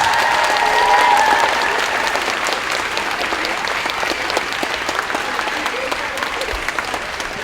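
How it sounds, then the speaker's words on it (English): Sustained audience applause at a 5th grade moving up ceremony, a dense wash of many hands clapping steadily at a fairly close range, peaking early and then holding through to the end. "So let's give them a huge round of applause."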